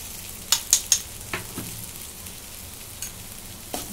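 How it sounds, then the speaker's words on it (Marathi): Ginger-garlic paste hits browned onion in a hot pan with a few sharp crackling bursts, then a soft, low sizzle continues, close and alone. "कांदा असा चांगला लालसर भाजून घेतलेला आहे. त्याच्यात 1 चमचा आलं लसूणची पेस्ट टाकून घेते."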